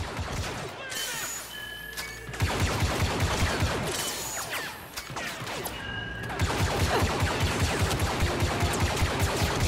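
Blaster and rifle gunfire in Star Wars Battlefront 2, dense repeated volleys that rise and fall in waves, loud and near, with battle effects around them.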